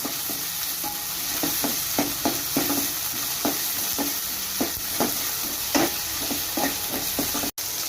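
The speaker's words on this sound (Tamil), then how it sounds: "வெங்காயமும் பூண்டு சேர்த்துக்கலாம் நல்லா வதக்கிக்கலாம்" Onion and garlic sautéing in a pan with fried fenugreek for a yam curry, a constant close sizzle broken by regular scraping stirs of a spatula, with no talking.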